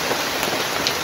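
Heavy rain pours steadily outside a hut, a dense, loud, even hiss of drops on the surface with no voices.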